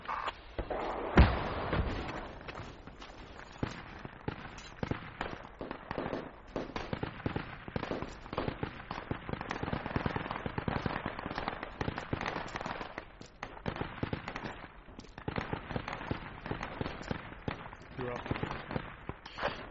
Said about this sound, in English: Yeah, they got MG emplacements.